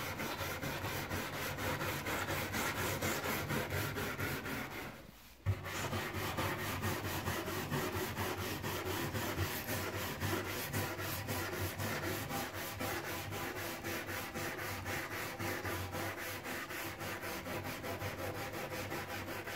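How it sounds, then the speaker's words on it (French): A brush scrubs along the grain of an old wooden kneading trough to strip wax with a cleaning product, a continuous close rasping rub that stops briefly once before resuming, with no talk. "Alors on frotte toujours dans le sens du veinage du bois."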